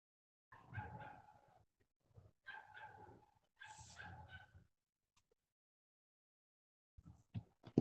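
A dog barks outside during a party, a few faint distant barks and yips in short bursts against quiet.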